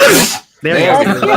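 Two voices talk over each other, and partway through a single sharp sneeze breaks in, loud and close, followed by a short silence before the speech resumes.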